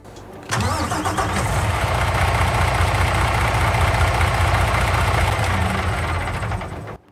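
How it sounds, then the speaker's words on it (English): An engine starts up on a John Deere 750A in a farming simulation game, cranking briefly before settling into a loud, steady mid-pitched idle that runs continuously with no talk over it. "I'm gonna be quiet so you guys can hear the engine turn on"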